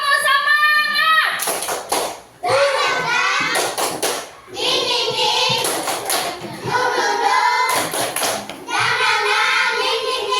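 A classroom of children claps in time while chanting together, bursts of sharp clapping alternating with sung syllables in a repeating rhythmic pattern, loud and close.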